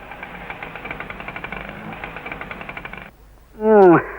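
An old vehicle engine runs noisily with a rapid, knocking rattle for about three seconds, cuts out, then a short loud whining rise follows near the end.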